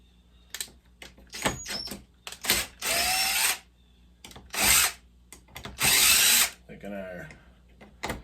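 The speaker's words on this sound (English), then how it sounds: "We're gonna use our impact" An impact wrench works stator and pickup-coil bolts loose on a 2005 Yamaha Banshee, firing in several close, loud bursts of varying length with sharp clicks and handling noises in between. A voice speaks briefly.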